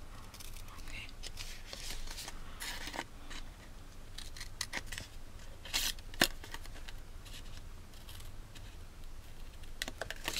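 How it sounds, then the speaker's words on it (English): Paper snips cutting cardstock down to a score line while making a Stampin' Up cupcake box, a run of crisp snipping and rustling clicks heard under a woman's soft, close narration. "take your paper snips and cut down to that score line, and then cut these little arms off."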